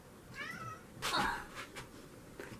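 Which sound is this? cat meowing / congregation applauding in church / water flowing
cat meowing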